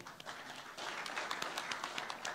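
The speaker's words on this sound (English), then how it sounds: "Let us applaud ourselves for having made this great effort to get here" Audience applause at a conference in Mumbai, a soft, steady patter of many clapping hands heard from a distance and swelling slightly after the first second.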